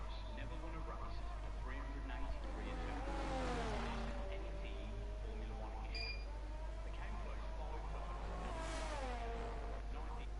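A race car engine in a racing game holds a steady drone through a lap, pitch rising and falling with gear changes and revs, with a couple of louder surges as it accelerates.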